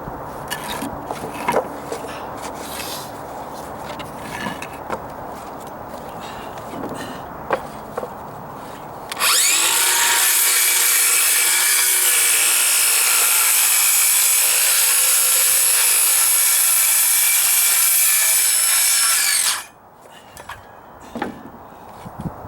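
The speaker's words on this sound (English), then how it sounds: "Now I can get my Sawzall blade in there." Sawzall reciprocating saw cutting plywood by a deck stair and stucco wall, a loud steady buzzing cut of about ten seconds after quieter handling and shuffling sounds.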